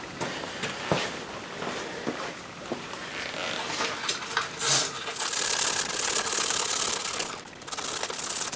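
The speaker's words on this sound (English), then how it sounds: "And I got some emery cloth, whatever you want to call it, crocus cloth, sandpaper." Fine-grit emery cloth rubbing over a metal part from a salvaged lawn mower makes steady, close scratchy strokes that rise into a continuous harsh rasp, with no talking.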